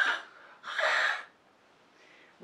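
A voice imitates two sharp, breathy puffs of an inhaler, a short hiss followed by a longer, stronger one, then a fainter breath.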